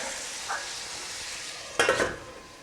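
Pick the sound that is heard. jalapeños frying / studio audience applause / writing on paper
jalapeños frying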